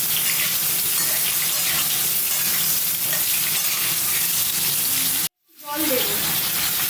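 Potatoes fried and stirred in a pan with mustard-seed tempering, a loud, continuous sizzle with stirring scrapes, cut by a short silence before the hiss returns.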